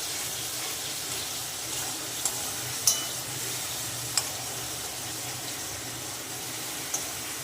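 Masala and fennel seeds fry in hot oil for Kutchi dabeli filling, a steady soft sizzle with faint scraping stirs and a few sharp clinks of a spoon against the pan, no voices.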